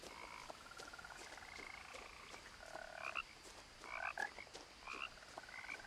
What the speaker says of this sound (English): I like the frog sound.